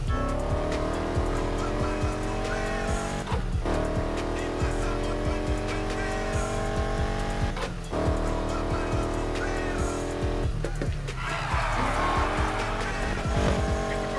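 Car drifting in Need for Speed Heat, a revving engine with long, loud tire squeals and skids that come in repeated bursts, broken by brief gear-shift gaps.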